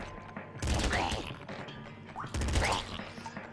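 Two heavy bursts of gunfire from the Nuclear Throne video game, each a dense rapid cluster of blasts with mechanical clatter, separated by a short gap of quieter game ambience.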